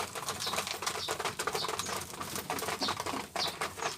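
Racing pigeons are fed in a loft, with a dense, continuous patter of grain pecking and scattered wing flaps. Soft cooing sits underneath, all close and busy.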